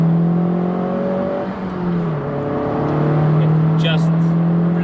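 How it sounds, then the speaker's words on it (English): Honda Civic Type-R 2016 engine pulling hard under acceleration inside the cabin, a steady droning tone that rises in pitch, dips briefly, then climbs again, fairly loud and continuous, with faint speech present. "The sound in the car, well, it's not that loud, but when you hit the power,"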